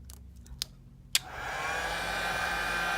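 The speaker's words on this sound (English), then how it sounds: "To take off the earpiece, we're gonna use the heat gun." Heat gun warming the earpiece of an iPhone XS Max, a few faint clicks and taps and then the gun switching on into a steady, close airy roar that holds to the end, with no talking.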